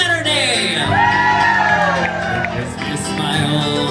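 A young Saturday-night party crowd at a piano bar on South Padre Island shouting, whooping and cheering together. Loud, close voices rise in long rising whoops over a noisy room.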